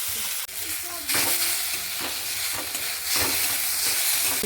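Potatoes go into hot oil with browned onion and chopped carrot for a semolina halwa, and a loud sizzle surges up after a brief drop. It is broken by scraping stir strokes throughout, with no voices.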